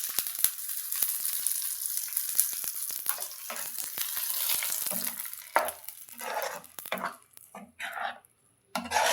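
Hot tempering poured into mint chutney crackles and sizzles loudly, with bursts of popping that flare and settle, close up with no talking.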